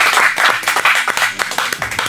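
Audience applause, a dense burst of many hands clapping together at close range, steady and lively for about two seconds, with faint voices mixed underneath.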